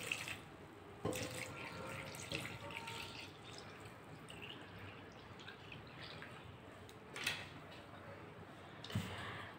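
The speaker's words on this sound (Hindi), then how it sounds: "अब हम इसमें पानी डाल देंगे।" Water pours steadily into a container of turnip, radish and carrot water pickle with jaggery, a continuous splashing, liquid rush, punctuated by a few clunks, close by with no talking.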